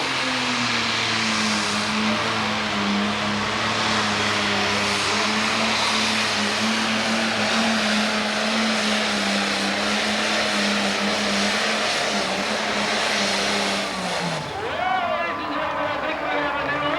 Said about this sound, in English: He builds up the RPM on the tractor,